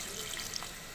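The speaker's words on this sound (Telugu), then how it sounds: "కొంచెం ముక్క మునిగేదాకా పోసుకుందాం వాటర్" Water pours steadily into a pressure cooker over chopped pieces for a thalakaya curry, a continuous close splashing rush that fills the whole second.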